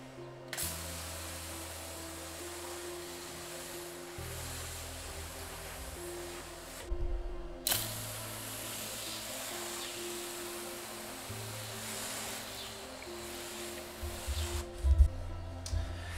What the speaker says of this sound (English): I'm just going to pre-spray it with the IK Multi-Pro 2